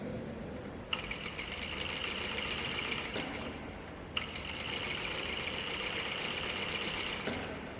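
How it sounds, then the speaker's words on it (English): A sewing machine stitches pants fabric in two steady runs of rapid whirring, each lasting about three seconds, with a brief pause between them, close and clear. "Now we're going to hold down on the fabric and then we're going to turn them as we are sewing here"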